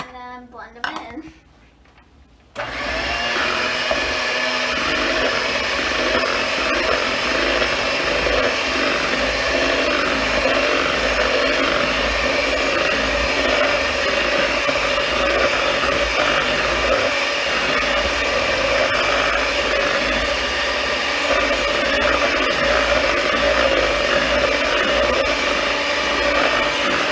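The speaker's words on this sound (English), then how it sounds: "Add in the mashed bananas and then blend them in." An electric hand mixer whirs steadily as it blends mashed bananas into banana bread batter, a loud continuous motor drone with beaters rattling against the bowl, starting abruptly after a short quiet lead-in and running without letup.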